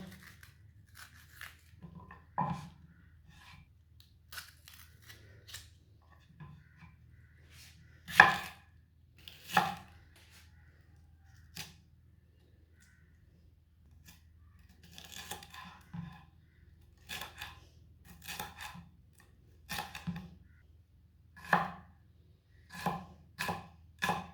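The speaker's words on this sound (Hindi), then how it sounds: "इसी तरह बरीक बरीक काट लेना शिमला मिर्च को।" A knife finely chopping bell pepper on a cutting board, heard as crisp, close taps that come in irregular runs and clusters over about twenty-four seconds, with quiet gaps between and no talking.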